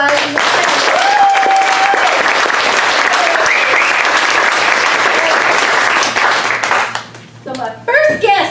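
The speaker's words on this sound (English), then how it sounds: "let's have one more big round of applause" An audience applauds at a live talk show, a dense sustained wash of clapping with a few cheers, fading after several seconds as voices come in.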